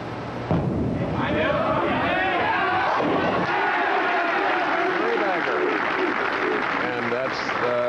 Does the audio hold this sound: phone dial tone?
no